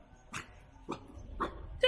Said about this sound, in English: My nemesis! Temple dogs.